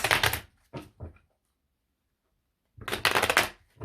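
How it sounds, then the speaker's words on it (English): Cards riffled and shuffled in quick crisp bursts, a pause of silence, then another longer shuffle, close up. "Let me get this shuffled a couple more times."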